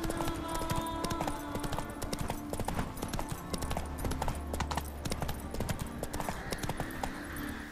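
Horse hooves clip-clopping steadily in The Witcher 3: Wild Hunt video game, a continuous rhythmic trot over layered game music and ambience, no talking.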